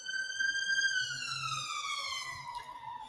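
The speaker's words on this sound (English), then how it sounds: "Sorry about this siren." The siren of a passing emergency vehicle wails loud and clear, its pitch sliding steadily downward as it moves away.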